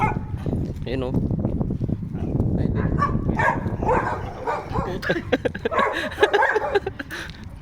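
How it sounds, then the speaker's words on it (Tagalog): Dogs bark from houses along a residential street in the Czech Republic, a scatter of yips and barks at moderate distance beneath men chatting and a faint whimper. "halos lahat ng bahay may aso. Ang lalaki pa."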